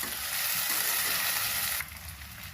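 Sea prawns fry Andhra style with salt and chili in a pan, giving a steady loud sizzle that drops abruptly to a softer hiss near the end.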